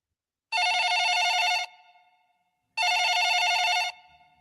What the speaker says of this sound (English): That would be the sound of a phone ringing next to John